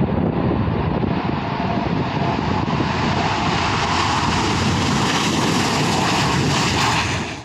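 A Su-25 attack jet, freshly repaired, roars loudly and continuously with steady engine noise throughout, without speech.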